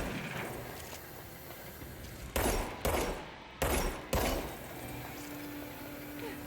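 Gunfire in the video game Control during a timed course: four sharp, loud bursts in quick succession over a steady game background, with no talk over them.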